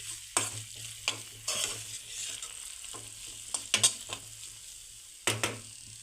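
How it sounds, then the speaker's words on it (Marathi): Boiled potatoes being stirred into spices in a frying pan for puri bhaji, with repeated close scraping strokes and soft sizzling in irregular bursts, no voices. "बटाटा आपण इथे मसाल्यांमध्ये एकदा मिक्स करून घेणार आहोत"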